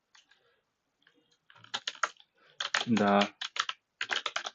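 Fast typing on a computer keyboard, bursts of rapid close key clicks with short pauses between, and a person speaking briefly in the middle.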